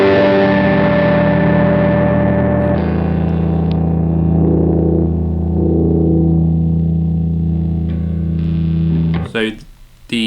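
An electric guitar played through a J Rockett Melody overdrive pedal with its mid controls fully boosted: sustained distorted chords ring loud and thick, shift once, then cut off abruptly near the end with a few scratchy string noises.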